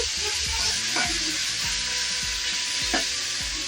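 Tomatoes cook in a pan for Maggi with masala and a little salt, giving a steady dense sizzle with a few soft stirring scrapes and utensil taps, and no voices.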